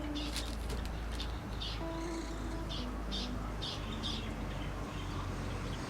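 Birds calling outdoors near the ocean, with dove-like coos and short chirps repeating over a constant low rumble of background traffic, faint and somewhat distant.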